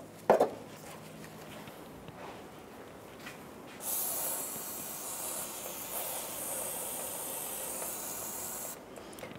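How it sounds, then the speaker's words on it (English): Aerosol parts cleaner sprays steadily onto the brake bleeder area of a 2010-2015 Lexus RX350, a close continuous hiss lasting several seconds after a short click and faint handling sounds, with no voices. "I'm going to clean the area with some parts cleaner."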